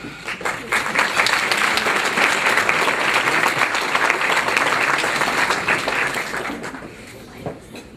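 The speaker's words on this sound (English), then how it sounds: "round of applause to Rebbetzin and Rabbi Goldschmidt" Applause for Rebbetzin and Rabbi Goldschmidt at a fifth annual community gala dinner: a loud, sustained round of clapping from the room lasting several seconds before thinning out near the end.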